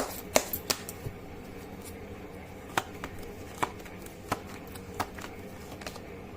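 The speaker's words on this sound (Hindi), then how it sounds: "मैं कर लेती हूँ कार्ड की शफलिंग।" A deck of tarot cards is shuffled by hand, giving a string of soft, irregular snaps and riffles spread across a few seconds, close and quiet with no talking.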